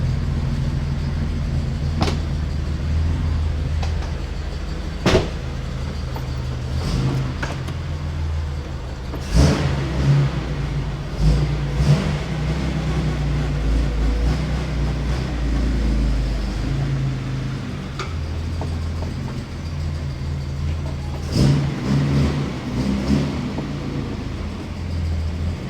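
A Nissan Skyline KGC10 Hakosuka with a modified L28 engine and aftermarket Weber carburetors idles with a deep, lumpy rumble, then revs briefly as the car creeps forward, with sharp mechanical clicks scattered throughout.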